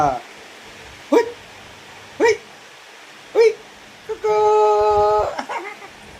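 A dog gives three short separate barks or yelps spaced about a second apart, followed by a sustained whining, tonal whimper; a voice murmurs in the background.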